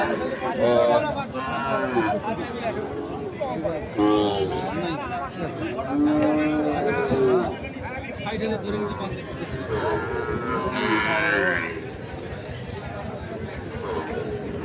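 Shahiwal bull calves and other cattle at a busy cattle and goat market moo several times, some long and near, some fainter, amid constant crowd chatter and nearby talking.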